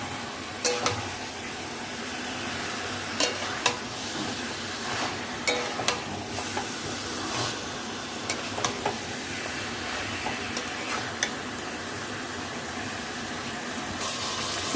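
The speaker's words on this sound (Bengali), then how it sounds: "এবার চিকেনটাকে মশলার সঙ্গে মিশিয়ে নেব।" Chicken pieces are stirred with spices in a pan for a red chicken curry with potatoes, a constant soft hiss with intermittent sharp taps and scrapes of a spatula against the pan.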